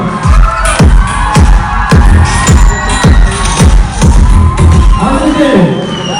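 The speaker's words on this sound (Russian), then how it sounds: "отдайте наши аплодисменты для наших участников." At the 2019 Miss and Mr Alma Mater pageant for Tuvan students, a loud crowd cheers and applauds the contestants. Heavy rhythmic thumps recur about twice a second under the steady roar.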